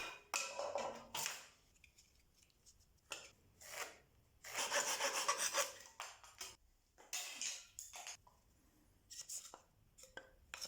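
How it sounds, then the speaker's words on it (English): Wood being cut for the base of a homemade kick drum trigger, heard as bursts of rasping, scraping strokes that come and go between pauses, close and fairly faint. "This is me measuring and cutting the base."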